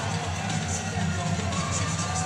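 The crowd at a Port Huron hockey game in McMorran Place keeps up a steady, dense roar of voices that fills the arena throughout, with a few brighter shouts rising above the din.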